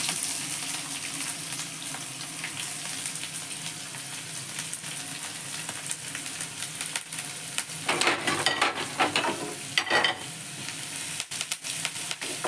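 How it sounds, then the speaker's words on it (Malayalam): Green chilli, ginger and garlic sautéing in a pan for a fish curry: a continuous moderate sizzle with stirring scrapes, rising into louder bursts of frying noise toward the end, no talking. "നമുക്ക് പച്ചമുളക് ഇട്ട് കൊടുക്കാം ഇഞ്ചി ഇട്ട് കൊടുക്കാം വെളുത്തുള്ളി ഇട്ട് കൊടുക്കാം"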